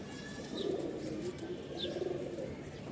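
Bashiraj cock pigeon calling with a few soft, low cooing phrases at moderate distance, plus brief faint chirps from other birds over a steady background hum.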